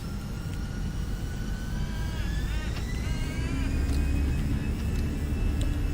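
Airbus A320neo jet engines spooling up on the runway in Microsoft Flight Simulator, a steady loud roar with rising whining tones climbing gradually over the rumble.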